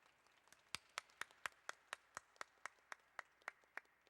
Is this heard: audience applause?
yes